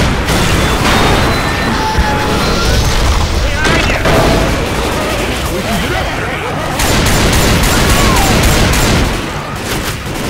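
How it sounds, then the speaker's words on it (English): A grenade goes off amid chaotic gunfire in Left 4 Dead 2's Blood Harvest, with dense bursts of shots and booms running throughout, loud and close, while voices talk over the fighting. "Grenade! Behind you!"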